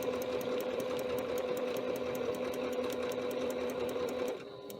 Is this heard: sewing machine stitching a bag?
yes